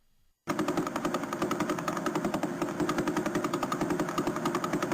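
Fast pulsar recording rendered as sound: a rapid, steady machine-gun-like ticking with dense broadband crackle, loud and continuous from just after the start to the end, with no voices.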